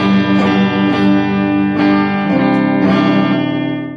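Bass guitar played through the bridge pickup with effects and distortion, a steady run of loud sustained notes plucked every half second or so, alone with no voices.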